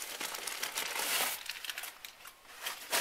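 Stuffing crinkling as it is pulled out of the front compartment of a new Vera Bradley backpack: close, papery rustling and crumpling in irregular bursts, with no talk.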